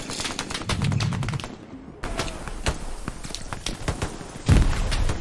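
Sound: gunfire in the video game Hell Let Loose

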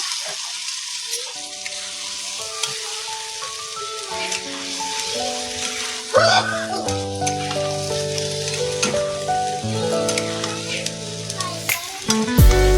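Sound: spice paste frying in a pan

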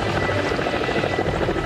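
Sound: rescue helicopter flying in Antarctica

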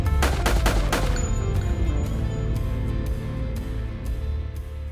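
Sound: suppressed gunfire, shooting practice

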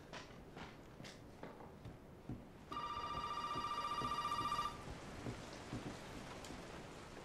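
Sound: telephone ringing in Resident Evil 7 video game

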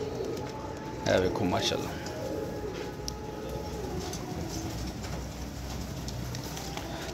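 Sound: pigeons cooing

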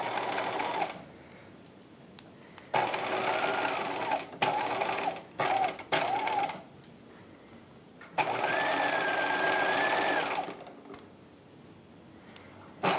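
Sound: sewing machine stitching a dress bodice

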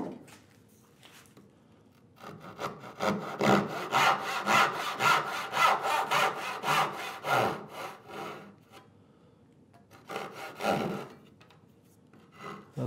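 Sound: hand saw cutting wood for a workbench drawer

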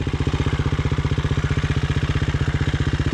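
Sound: dirt bike motorcycle engine

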